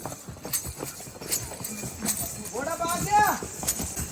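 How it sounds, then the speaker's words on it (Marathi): A horse is led downhill on the Katra Vaishno Devi pilgrimage path, its hooves clip-clopping in an uneven rhythm over a busy crowd, with a brief whinny and people talking nearby. "आता घोड्याला घेऊन चालला खाली."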